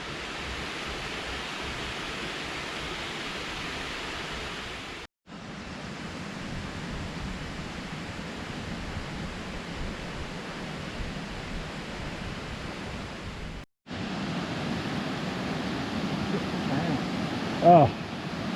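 A river flows steadily past a footbridge on a countryside walk, a constant loud rushing wash that is briefly cut off twice and then resumes.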